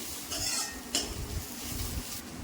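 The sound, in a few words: stirring curry with green chillies and curry leaves in pan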